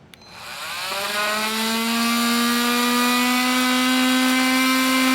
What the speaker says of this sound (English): We'll go ahead and cut that with our oscillating tool